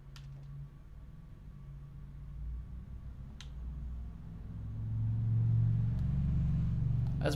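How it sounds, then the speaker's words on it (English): A low engine rumble builds gradually as a vehicle draws near, growing loudest toward the end, with a few faint clicks scattered over it. "That's a pretty loud truck."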